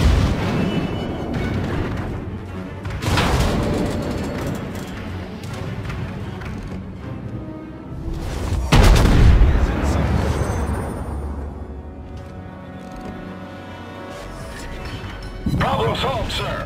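Gunfire and explosions in a video game battle, with loud booms and crashes rolling through a dense din, one especially heavy blast near the middle, and voices talking over the action.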